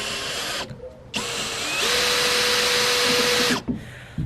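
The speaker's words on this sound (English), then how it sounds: "is screwing a self-tapping metal screw through, and this pilot hole isn't very big" A power drill drives a self-tapping metal screw through a narrow pilot hole into a Peugeot Boxer van floor, loud whining bursts with a short pause, then a long sustained run before stopping.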